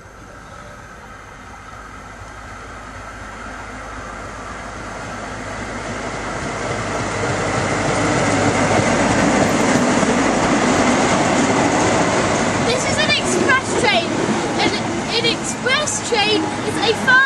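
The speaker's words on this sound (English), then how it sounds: "Train is a fast train that travels long distances." A fast long-distance train rumbles past nearby, its broadband roar building steadily and holding loud, with rhythmic clicking of wheels over rail joints toward the end.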